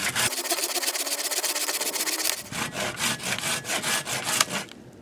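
A hand saw rasps through a hard, dead apple tree branch in steady back-and-forth strokes, close up and loud, the rhythm quickening partway through, with no talking.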